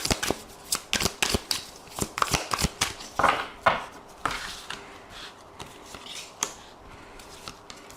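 A deck of tarot cards is shuffled for a reading: close, crisp bursts of riffling and snapping card edges, busy at first and then thinning into sparser taps, with no talking.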